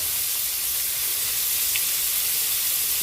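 Chayote and chicken liver sautéing in a pan give off a steady, soft sizzling hiss that runs without a break. No one speaks over it.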